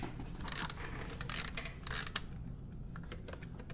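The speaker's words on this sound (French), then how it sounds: "Fait que tu as un petit ratchet." A small ratchet wrench clicks in quick bursts of sharp, close ticking while unscrewing, with brief pauses between runs over a quiet background.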